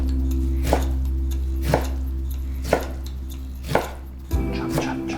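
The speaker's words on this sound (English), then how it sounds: "Now I'm gonna chop my kimchi as well. Also nice and fine." Kimchi is finely chopped with a knife on a board, five or six evenly spaced, close, crisp thuds over a steady low background hum, with no talk.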